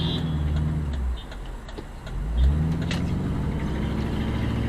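City street traffic in Longwood, the Bronx, New York: engines hum and swell as cars pass close by, with a brief revving surge midway and light ticking sounds over a constant background roar.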